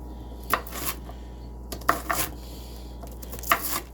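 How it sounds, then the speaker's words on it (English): A slightly dull kitchen knife slicing Brussels sprouts on a cutting board: three separate crisp cuts, each a quick double chop about a second and a half apart, close and fairly quiet over a steady low hum. "I kind of get nervous around Brussels sprouts. I want to make sure I cut it properly."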